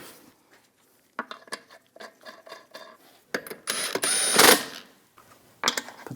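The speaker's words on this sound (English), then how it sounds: "Now we can put the wheel on." A wheel being mounted onto the front hub of a 2015-2022 Chevrolet Colorado pickup, sharp metallic clanks and scrapes in uneven bursts, close and fairly loud, with no talking.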